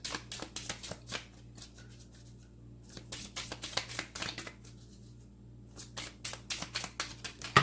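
Oracle cards are shuffled by hand in repeated quick bursts of close, crisp riffling and flapping, with brief pauses between rounds and no voices.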